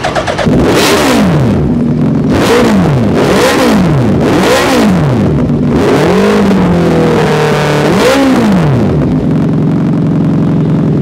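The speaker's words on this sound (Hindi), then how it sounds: "जिनको सुनना है एग्जॉस्ट नोट उनके लिए मैं एक बार थोड़ा सा रेव कर रहा हूँ" A vehicle engine is revved repeatedly, the exhaust note climbing and falling in about six close, loud sweeps, with one longer held rev near the end, over a steady rumble.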